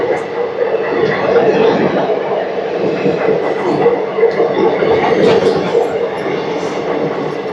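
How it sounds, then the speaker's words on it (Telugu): An express train pulling out of Visakhapatnam station, a steady rolling rumble of wheels and carriages with faint rhythmic clatter, while a person talks over it from nearby. "విశాఖపట్నం స్టేషన్ బయట నుంచి ఒక ట్రైన్ అయితే బయటకు వస్తుంది"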